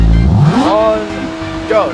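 In the driving game BeamNG, a 277-horsepower car engine revs loudly and up close, its pitch rising quickly and then holding at a high, steady tone before climbing again, while a voice talks over it.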